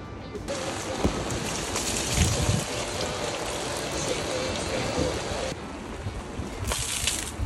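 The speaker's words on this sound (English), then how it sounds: "it is raining, obviously." Steady rain patters and hisses on a surface nearby, a dense constant wash with occasional louder drips and splashes.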